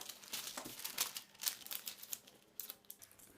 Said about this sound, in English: I'm going to be folding my paper on this line so that I can trace out these lines